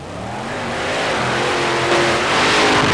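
A paddle-tire mud racing vehicle roars at full throttle through a race run, the engine note loud and sustained, building steadily and holding a harsh, continuous revving drone throughout.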